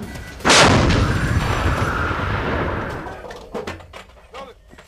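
A Marine artillery gun fires once during a relocation training exercise, a huge close blast with a long rumbling decay, followed by faint clanks and shouted voices as the roar fades.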